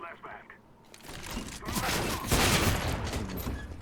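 Rapid gunfire from a Counter-Strike (CSGO) match crackles in bursts of overlapping shots that grow denser toward the end, under excited commentators talking throughout.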